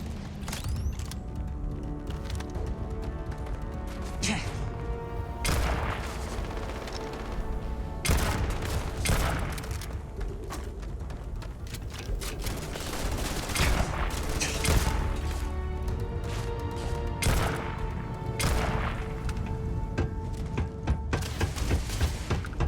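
Gunfire from a weapon in the sci-fi video game Starfield, loud repeated bursts and sharp shots with booming impacts, coming in clusters over a busy game soundscape.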